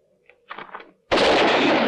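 A single loud gunshot goes off in a Western gunfight setting, a sudden sharp blast that rings out and sustains right after a brief muffled scuffle.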